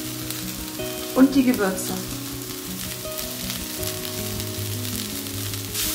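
Garlic and spices sizzle in a hot frying pan with browning onion-like base for cabbage roll filling, a steady crackling fry with a brief stir clatter early on and a short spoken remark.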